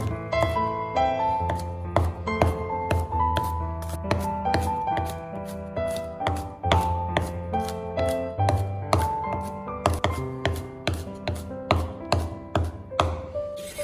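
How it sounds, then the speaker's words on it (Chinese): A knife minces a small handful of garlic on a chopping board in a rapid, steady run of crisp taps that continues throughout, with soft background music underneath. "准备一小把的大蒜，把它切成蒜末。"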